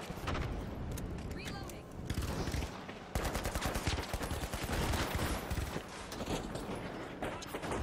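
Shooting in a video game comes as fast, dense bursts of automatic fire, close and continuous, under several excited voices talking.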